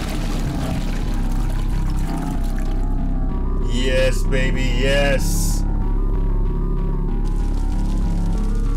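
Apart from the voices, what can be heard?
shower running in video game The Happy Hills Homicide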